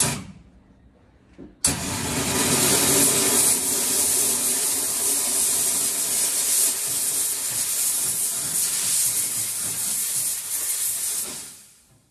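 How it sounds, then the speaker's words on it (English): A steam cleaner blasts soapy water off a vintage Rolex watch case held in tongs, a sudden loud continuous hiss of pressurized steam that starts after a short quiet moment, holds steady for about ten seconds and then cuts off. "I'm gonna steam this soapy water solution off the case and the bracelet."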